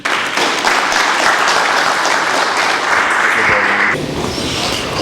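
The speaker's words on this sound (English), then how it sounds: "please help me with a round of applause" A round of audience applause welcoming a speaker, a full, steady wash of clapping that carries on before easing slightly at the end, with faint voices underneath.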